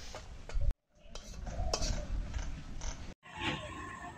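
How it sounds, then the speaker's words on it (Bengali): A utensil scrapes and clinks against a pan as fried food with coriander is lifted out onto a plate, a few short metallic taps and stirring scrapes broken by brief pauses, close and quiet. "ভাজা হয়ে গেছে, এখন এই থালটার মধ্যে নামিয়ে নেবো।"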